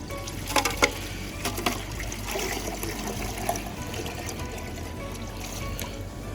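Maple sap poured into a pot sitting on a heated barrel, a steady trickle and splash of liquid running for several seconds with a few louder knocks near the start and a faint outdoor hum underneath.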